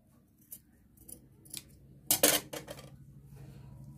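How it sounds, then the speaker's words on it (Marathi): Scissors cut fabric along a round neckline, quiet close snips in an irregular sequence with one louder cluster of crisp cuts midway. "आता ही जी साईड आहे ही तुम्ही व्यवस्थित कट करून घ्यायची आहे।"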